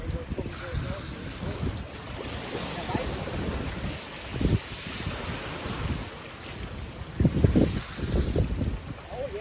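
Wind blowing hard at about 20 miles per hour on a beach, a steady roar of gusts buffeting the microphone, with low rumbling surges and louder bursts near the middle and end.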